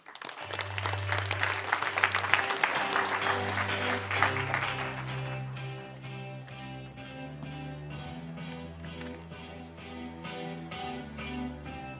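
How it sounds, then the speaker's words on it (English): Audience applause for a speaker at a conference, a dense burst of clapping that peaks early and then thins as a voice and soft low-pitched music take over. "So give a big round of applause to Thorsten."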